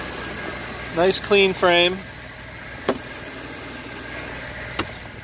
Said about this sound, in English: It's running right now. Smooth sounding motor.